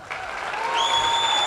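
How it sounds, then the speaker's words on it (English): Audience applause for the newly named 14th president of the University of Oklahoma at a press conference, a dense, steady round of clapping that swells after a brief quieter start and holds strongly, with a few tonal streaks running through it. "Big round of applause for the 14th President of the University of Oklahoma, President James Gallogly"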